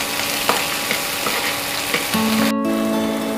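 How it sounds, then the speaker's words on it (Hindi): Eggplant, tomato and onion for a bharta being stirred together in a pressure cooker, a soft scraping mix with a few light knocks and a faint sizzle underneath, close and continuous. "सभी चीज़ों को मिक्स कर लेते हैं।"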